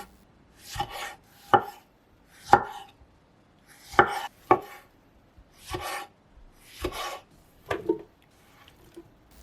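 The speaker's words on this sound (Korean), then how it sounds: "토마토는 적당한 크기로 자르세요." Knife chopping tomatoes on a cutting board, about a dozen sharp, irregular chops spaced through the clip, close and clear with no talking.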